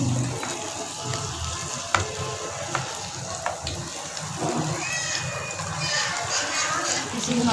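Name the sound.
chicken pieces shallow frying in a kadhai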